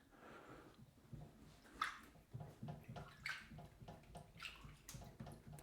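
Water runs from a tap into a sheep sausage casing in a kitchen, a soft trickling and gurgling with intermittent splashes and sloshing, fairly faint and close with no talk.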